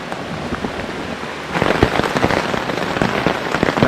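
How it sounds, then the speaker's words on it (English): Steady rain patters over a riverside campsite in a tropical storm, growing noticeably heavier and louder halfway through, with dense drops striking surfaces up close. "even though it is raining"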